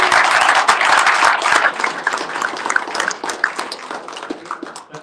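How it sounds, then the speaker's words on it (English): Audience at a Founders Live startup pitch event in Houston breaks into a loud, dense round of applause that fades gradually toward the end, with scattered claps and crowd noise. "All right, guys, let's give a round of applause."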